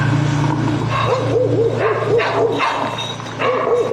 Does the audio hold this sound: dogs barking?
yes